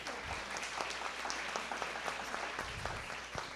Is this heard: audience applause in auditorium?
yes